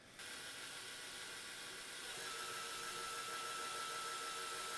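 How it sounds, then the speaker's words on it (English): Motorized LEGO camera slider at the end of its track, the dolly stalled while the motor keeps spinning the wheels, giving a steady continuous whirring grind with a faint clicking texture throughout. "The dolly stops, but the wheels keep turning because the motor has a lot of torque"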